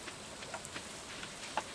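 Steady rain falls in the Stardew Valley farming game, a soft even hiss with faint scattered drop ticks, fairly quiet and uninterrupted throughout.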